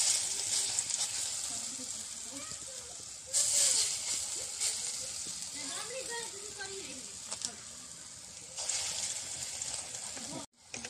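Lentil fritters frying in hot oil, a steady hiss and sizzle running throughout with a few louder bursts, while a voice talks quietly over it.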